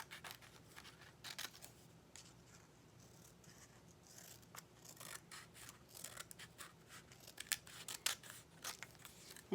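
Paper candy wrappers for Easter Hershey Nugget candies being cut out along a printed line with scissors, a steady series of quiet close snips and paper rustles with no talking.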